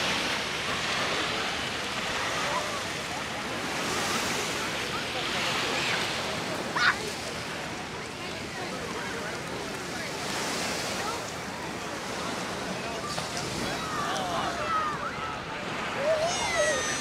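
Surf washing onto the beach at Venice Lido, steady broadband rush of breaking waves with wind buffeting the microphone, continuous and fairly loud, with faint voices in the background.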